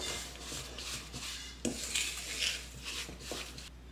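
Pumpkin bread batter stirred by hand in a bowl, a steady scraping and soft clinking of a utensil against the bowl with occasional sharper knocks, quiet and close.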